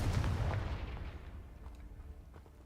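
Confringo fire spell cast in the Hogwarts Legacy video game: a loud fiery blast bursts at once, then rumbles and fades over a couple of seconds, with a few faint pops trailing behind.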